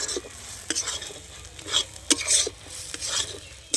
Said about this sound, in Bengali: এবার আমি খুব ভালো করে নেড়ে চেড়ে এই জলটা একদম কড়ার মধ্যে মেরে দেবো